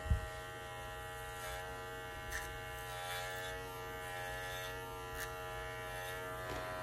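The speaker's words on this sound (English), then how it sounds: "Now I will shave Lola's feet with a 40 blade." Electric clippers fitted with a 40 blade shaving a poodle's feet during a lamb trim, a steady close mechanical buzz that runs without a break, with faint soft bumps as the blade moves.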